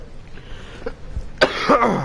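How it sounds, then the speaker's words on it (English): A sick man coughs and clears his throat in a short, harsh burst near the end, following quieter breathy noise. "Sorry guys that I'm coughing during the dialogue."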